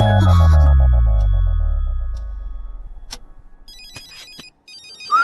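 An electronic phone ringtone plays nearby as a repeating tonal pattern, then switches to quick high beeps.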